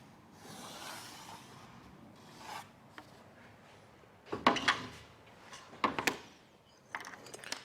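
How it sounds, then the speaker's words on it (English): A tungsten-tipped snap and score knife scrapes into textured fibre cement sheeting, giving faint intermittent rasps that build into several harsher gouging strokes near the end, close and otherwise quiet. "the snap and score knife, tungsten tip, really good for cutting texture-based sheeting. As you can see, it makes a nice deep gouge in your fibre cement."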